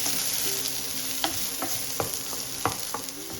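Onions fry in a pan for a vegetable thukpa, with a steady broadband sizzle and sharp scraping clicks as a spoon stirs them, repeated several times at close range.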